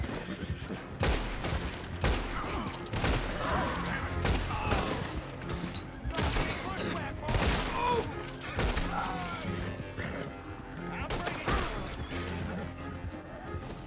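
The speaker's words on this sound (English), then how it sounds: "Okay, now we can pull out the rifle." Rifle gunfire in the Western video game Red Dead Redemption 2, with repeated sharp shots in irregular bursts over a busy in-game mix that suggests horses and scuffling.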